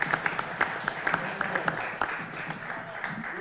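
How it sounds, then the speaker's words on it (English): A short round of clapping at a school board meeting for the IT team: a modest group producing sharp, distinct claps over room noise, fairly close and steady. "So just a quick round of applause for our awesome IT team."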